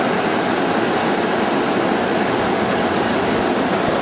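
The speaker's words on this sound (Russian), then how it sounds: "Очередной перекат." Water rushes loudly over a riffle on a river during a boat trip, giving a dense, continuous roar of churning rapids close by, steady throughout with no voices.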